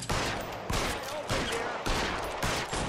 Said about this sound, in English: There's a guy in the front shooting too!